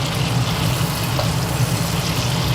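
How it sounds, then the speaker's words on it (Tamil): Butter melts in a hot pan with a steady, close, even sizzle, a soft hiss and bubbling crackle that holds without pause. "வெண்ணெய் உருகிற சத்தம் பார்த்தீங்களா?"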